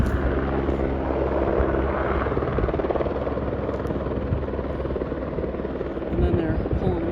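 Rescue helicopter hovering on Mt Diablo while crew on a rope are hoisted up, its steady loud rotor throb and engine roar filling the whole stretch with voices faint underneath.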